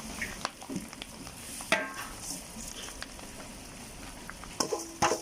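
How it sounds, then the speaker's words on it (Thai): Chili and dried garlic stir-fried in a large wok with crispy pork belly, a soft steady sizzle with scattered clinks and scrapes of the spatula against the pan, faint and close, no voices. "แล้วเราก็จะใส่ พริกกระเทียมลงไปค่ะ"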